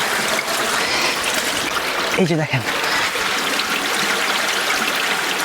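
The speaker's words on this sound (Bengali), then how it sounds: "ওই যে দেখেন এখানে পাহাড়ের গা ছুঁয়ে তারপর পড়তেছে, একেবারে পরিষ্কার পানি" Clear water spilling down a hillside at the Fakir Murung waterfall in Kaptai, Rangamati, a constant rushing wash of flowing water with a voice speaking briefly over it.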